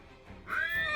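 A horse neighs once, a rising whinny that swells in over about a second after a faint low background, fairly close and alone with no talk.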